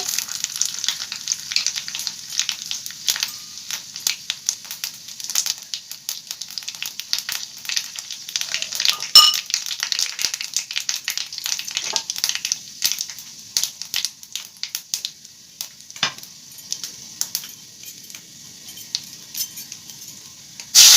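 Dry red chillies and spices sizzle and crackle in hot oil for Odia cooking, a steady fry dotted with sharp pops and occasional scrapes of a utensil stirring.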